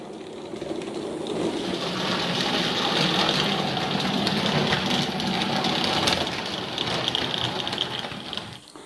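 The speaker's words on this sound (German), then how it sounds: "Der Zug fährt jetzt weiter auf die Mole zum Anschluss an die Fährschiffe." Fleischmann model train with a BR24 steam locomotive rolls along on a layout in a steady, close mechanical whir and rapid clatter that swells and fades slightly, no talking.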